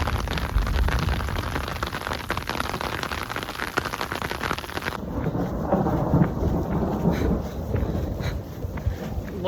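A thunderstorm on a trail in the Pacific Crest Trail region, with steady heavy rain pattering on surfaces and low rumbling thunder throughout, wind buffeting the microphone, and the rain texture shifting partway through.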